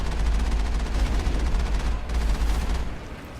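Geth weapons fire in the Mass Effect video game, a dense continuous barrage of loud gunfire with a deep rumbling low end that holds steady for a few seconds before easing off.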